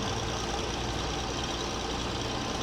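A small tractor engine in a farming video game labours up a steep hill, giving a steady, constant drone with a low rumble that holds at an even level from start to finish, with no talking.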